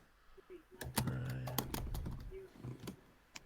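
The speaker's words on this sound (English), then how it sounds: "someone is typing very loudly" Loud typing on a computer keyboard: a quick run of sharp, close key clicks and clacks in an uneven rhythm, with a faint voice murmuring briefly underneath.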